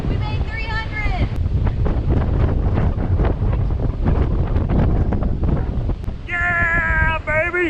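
Strong, cold mountain wind buffets the microphone on the Appalachian Trail, a loud, continuous rumbling roar, with a person talking briefly at the start and end.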